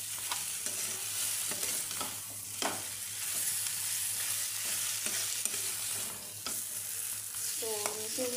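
Fish head muri ghonto is stirred in a pan, a spoon scraping in repeated strokes over a constant close frying sizzle, with no voices.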